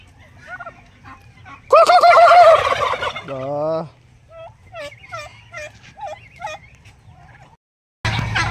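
Turkeys gobble loudly in a burst of rapid, warbling calls, followed by scattered softer clucks and another gobble at the end.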